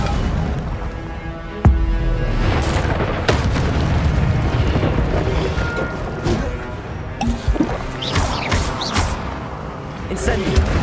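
In the Hogwarts video game, an Incendio fire spell is cast, followed by booming, crackling bursts of flame with sharp impacts over a loud continuous rumble, while a voice talks over it.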